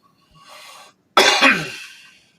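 Two people cough and clear their throats close to a loud microphone: a short, muffled throat clearing, then a sharp harsh cough that trails off into raspy hacking.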